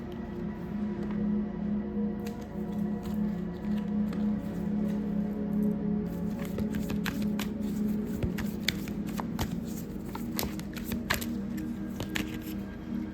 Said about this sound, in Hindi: रुकिए हम दोबारा शफल करेंगे